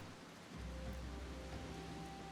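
Steady rain falling at Camp Drybone in Final Fantasy XIV, an even hiss of drops that swells in after a brief quieter moment and continues softly.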